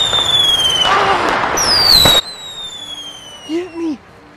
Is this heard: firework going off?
yes